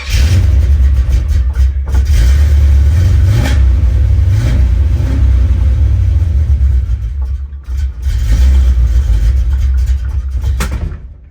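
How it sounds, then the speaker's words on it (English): A 1979 Chevrolet El Camino V8 with a weak battery cranking and revving loudly up close, its engine backfiring through the carburetor with popping coughs amid the heavy rumble, briefly dipping before roaring again. "We backfiring through the carb."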